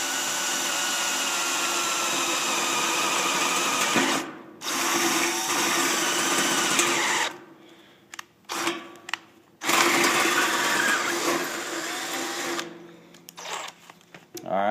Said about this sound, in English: I'm going to go ahead and drill this one on through